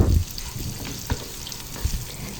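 Onion sautés in hot oil with a close, steady sizzle and crackle, punctuated by a few soft stirring knocks of a utensil against the pan.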